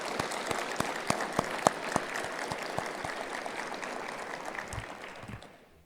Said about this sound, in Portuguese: Uma salva de palmas a vocês.